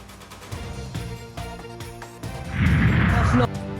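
Scattered booming pops and cracks rise into a dense, loud crackling burst of fireworks at a distance over crowd noise, alongside a laser light show at a cricket super league opening.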